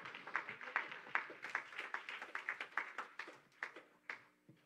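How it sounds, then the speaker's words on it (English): Scattered hand claps of praise during a Sunday morning church service, a dozen or so sharp, uneven claps from a few people at moderate distance, thinning out toward the end with faint background voices. "I'm going to give the Lord a hand clap of praise."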